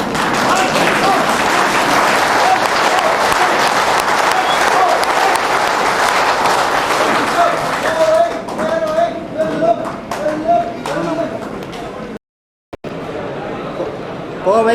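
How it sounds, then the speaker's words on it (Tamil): A standing audience at a Coimbatore association general meeting in Madurai claps loudly and continuously, with crowd chatter. The clapping then thins into scattered claps and stops abruptly, followed by a brief silence. "எழுந்து நின்று 3 முறை கைத்தட்டி நமது"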